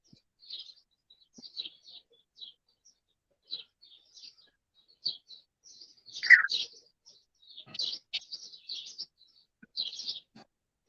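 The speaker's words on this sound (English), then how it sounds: "Who's the Tweety birds?" Small birds chirp and tweet in short, scattered bursts at moderate volume, with one louder, fuller call in the middle, heard alone without voices.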